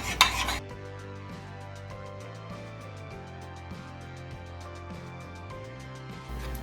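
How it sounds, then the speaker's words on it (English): Partially melted butter is stirred for chocolate chip birthday cookies, giving steady soft scraping and light clinks of a utensil against a bowl, with a brief louder knock at the start and a low background hum throughout. "I'm going to stir it and see what we get."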